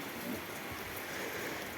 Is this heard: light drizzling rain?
yes